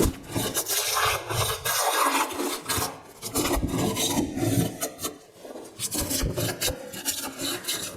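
A hand plane takes diagonal passes across a wooden board, giving repeated raspy shaving strokes in a steady rhythm, close and fairly loud, with no voices.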